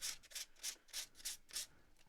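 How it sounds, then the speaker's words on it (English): Wood-burned surface being scrubbed, six rhythmic rasping strokes in quick succession, each a soft brushy swish, close but faint. "I'm just going to give it a good old scrubbing"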